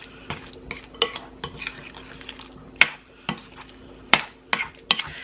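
Spoon scraping and clinking in a bowl while egg salad with mayonnaise is mixed, a run of soft stirring sounds broken by several sharp, close knocks against the sides.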